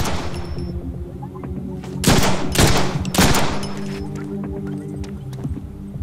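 Gunfire in a Deadpool video game: three loud bursts of shots arrive in close succession over a steady background game score, with no talk heard during them.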